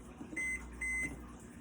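A microwave oven gives two steady electronic beeps of equal length, about half a second apart, as its timer is set in a kitchen; clear and close with faint room hum beneath.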